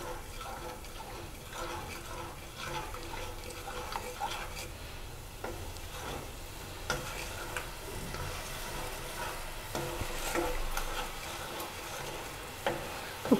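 A sugar mixture for jackfruit modak simmers in a pan, giving a soft, steady bubbling hiss with faint clicks and stirring, quiet and with no talking.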